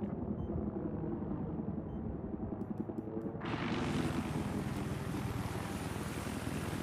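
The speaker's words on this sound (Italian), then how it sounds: "C'è un elicottero in arrivo!" An enemy helicopter in a Battlefield-style game on Damavand Peak approaches, its rotor a loud, steady throb. Partway through, the sound thickens and brightens as it comes closer, with no talk over it.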